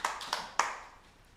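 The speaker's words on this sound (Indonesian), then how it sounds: "Beri tepuk tangan untuk Kirana." Three sharp claps, nearly evenly spaced, then fading room echo. They come from a small audience applauding a child dancer at a televised children's segment, after a traditional dance performance.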